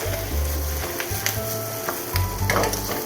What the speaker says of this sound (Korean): 저는 그냥 바로 파 넣어줄게요 이렇게 해서 파가 이제 기름에 볶아지면서 파 향이 고기에 싹 들어가서